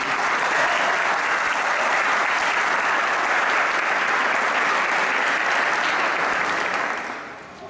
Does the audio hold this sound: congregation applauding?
yes